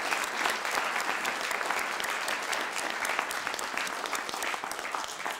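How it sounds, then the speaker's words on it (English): An audience at a university teaching celebration applauds steadily, a dense, even clatter of many hands that fades slightly at the end. "I'd like a round of applause for everybody."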